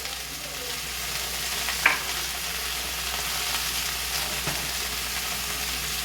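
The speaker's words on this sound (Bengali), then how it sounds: "সবজি মিনিট দুয়েক নেড়ে এবার আমি নুন হলুদ সব দিয়ে দিচ্ছি।" Vegetables fry in a pan as salt and turmeric go in for a fish-head and snake gourd ghonto, a constant close sizzle with a couple of soft spoon taps and scrapes, no voices.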